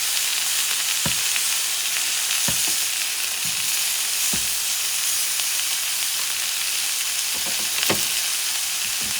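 Honey-glazed sausages sizzle on a cast iron griddle over medium-high heat, a loud, steady frying hiss broken by a few sharp clicks and scrapes as they are turned.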